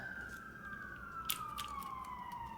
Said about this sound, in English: there's so many police cars and stuff tonight